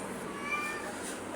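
A cat meows softly at close range, a short drawn-out cry indoors with faint room noise and no speech over it.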